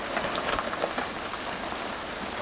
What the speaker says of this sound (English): This is hailing.